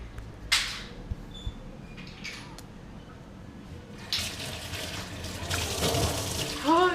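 Cold tap water runs into a sink during tooth brushing, a soft steady splash that swells louder in the second half with brief clatters and bumps nearby.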